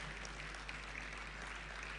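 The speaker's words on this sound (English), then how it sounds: "A round of applause for her." Audience applause at the InnovateAI tech event in Lagos welcoming a speaker, a steady wash of many hands clapping continuously throughout without a break.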